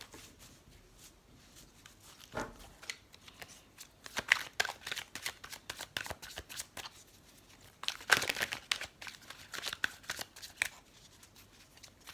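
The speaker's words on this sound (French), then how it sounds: "je vais mélanger dans tous les sens parce que pour un tarot, c'est important le sens de la carte" Tarot cards are shuffled by hand in every direction, producing close, soft riffling and sliding bursts with brief pauses between, fairly quiet and with no talk.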